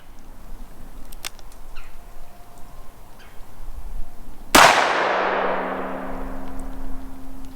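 A single sharp, loud shot from a .629 revolver fired at targets 25 yards away cracks out after a quiet stretch, followed by a lingering metallic ring.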